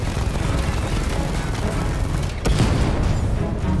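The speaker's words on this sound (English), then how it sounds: "I shot so many rockets." Rocket blasts in the Batman Arkham Knight video game: dense, rumbling booms and crackling detonations that run continuously, with a heavier impact near the end.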